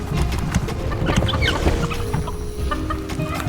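Little chickens cluck and squawk in the dungeon-building video game Dungeons 4, a busy cluster of short clucks over a low rumbling game soundscape.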